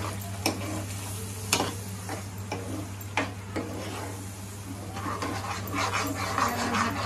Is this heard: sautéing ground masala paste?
yes